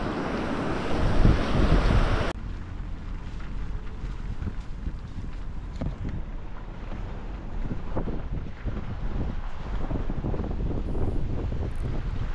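Floodwater of a river in Yellowstone rushes in a dense, continuous roar, heavy and close, with wind buffeting the microphone loudly in the first couple of seconds.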